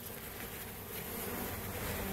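Honey bees buzzing steadily as a package colony is installed into a hive with the queen cage, a close, continuous droning hum that stays fairly loud and swells slightly as it goes.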